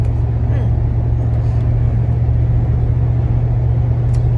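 A car driving on the road gives a steady, loud low rumble of engine and road noise inside the cabin, continuous throughout, with no clear talking.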